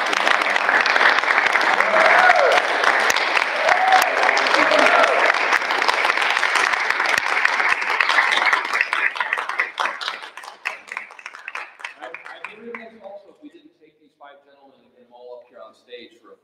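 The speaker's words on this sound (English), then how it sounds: "giving a round of applause to all five of these." Audience applause at a high school spring piano recital, loud sustained clapping from a full room for about nine seconds, then thinning into scattered claps and faint voices as it dies away.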